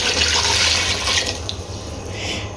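Water pours steadily into a pressure cooker holding beef for Kabuli pulao, a loud, close rushing stream that lasts the whole moment with no voices.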